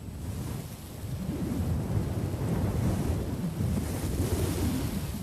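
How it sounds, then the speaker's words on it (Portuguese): Arid desert wind blowing steadily, a broad, loud rushing roar that swells and gusts continuously throughout, with no voices. "O árido vento do deserto sopra durante todo o dia."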